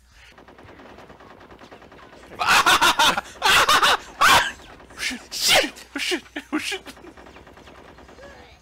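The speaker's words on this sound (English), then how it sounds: "My partner just shot me!" Bursts of gunfire in Conker's Bad Fur Day multiplayer, several loud rapid volleys in clusters, with a player's exclamation cutting through.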